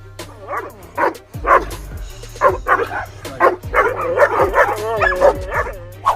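An Akita dog barks in repeated loud, close bursts, some sharp and some whining yips, spread irregularly across the stretch with short pauses between them.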